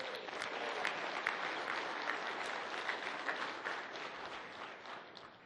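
An audience at a community breakfast applauds steadily for about five seconds, a dense and even wash of many hands clapping at moderate volume, with no clear speech over it.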